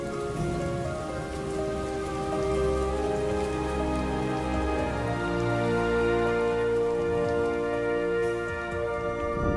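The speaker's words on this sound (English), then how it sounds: "It may not seem so, but the rain is good news." Rain falling on the African savanna: a steady, even patter of drops on surfaces, continuous and moderately close, accompanied by a sustained tonal background layer.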